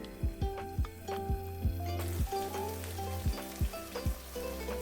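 Small fish chachchari cooks in a covered pan on the stove, with a quiet, steady sizzle and frying crackle under a series of sharp, rhythmic clanks and taps, with no voices.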